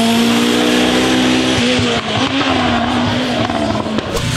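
A Ford RS200 rally car with a Cosworth-based engine and large turbocharger, heard at the Goodwood event: a loud, sustained engine drone with a steady pitch that dips and rises slightly, close and unbroken for the whole stretch.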